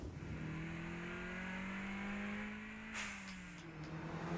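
An anime race car engine from Initial D Second Stage climbs and revs smoothly as the car accelerates, rising in pitch before easing off, heard faintly and without talk.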